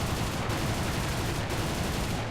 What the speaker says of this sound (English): I'm still getting used to these guns, but they're a bit slower in their firing